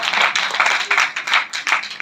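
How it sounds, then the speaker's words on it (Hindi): Audience at an astrology conference in Jaipur claps in a sparse, uneven patter, individual hand claps rising and falling in bursts, fairly close and loud. "बात जमे तो ताली बजा दो साहब।"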